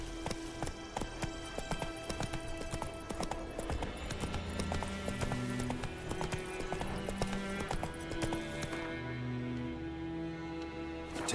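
Roach, Geralt's horse in The Witcher 3 video game, trotting with steady, continuous hoof clip-clops over a bed of background game music, close and even throughout.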